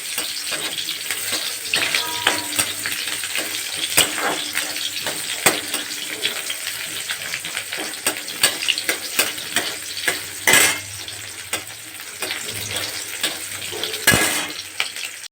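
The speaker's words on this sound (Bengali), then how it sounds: "পেঁয়াজগুলো দিয়ে দিলাম, পেঁয়াজগুলো এবার হালকা ভাবে ভেজে নেব" Onions fry lightly in a pan over rising heat, a steady sizzle broken by frequent sharp clicks and scrapes of a spatula or spoon against the metal, close up, with no voices.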